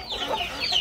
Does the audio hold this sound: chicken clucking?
yes